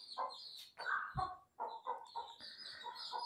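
Desi hens and small chicks clucking close by, with a run of short, irregular clucks and high peeping chirps that overlap and repeat.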